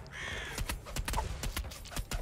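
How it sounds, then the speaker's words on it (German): Ravens in the video game Asgard's Fall give a series of repeated harsh caws, about eight calls in a loose rhythm, loud and close over a low steady game backdrop. "Die Raben wieder am Start."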